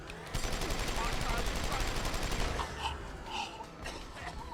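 Gunfire while shooting enemies in Deus Ex: Human Revolution, a rapid rattle of automatic shots in a dense burst lasting a couple of seconds, followed by scattered sharper reports and mechanical clatter at moderate level.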